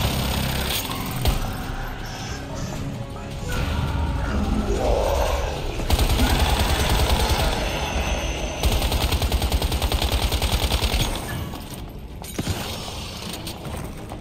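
Rapid automatic gunfire and mechanical clatter from a shooting video game, loud and dense bursts sustained throughout with dense game effects and no talk.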